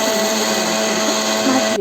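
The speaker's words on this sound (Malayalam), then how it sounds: "അതൊന്ന് തൊലി കളഞ്ഞിട്ട് മിക്സിയിലിട്ട് അടിച്ചെടുക്കാം" A mixer grinder whirs at full speed grinding peeled roasted peanuts with cardamom, a loud, steady high-pitched motor whine that runs unbroken at close range until it cuts off at the end.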